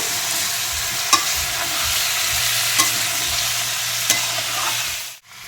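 Jackfruit pieces frying in a pan, stirred with a spatula: a steady sizzle with a few sharp scraping knocks at regular intervals, close and clear, ending in a brief drop to quiet.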